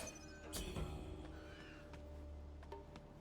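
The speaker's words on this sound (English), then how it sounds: "I feel like there was a bird" A crow caws a few times at a distance, sharp and scattered, over a low ambient hum in the video game Wuchang: Fallen Feathers.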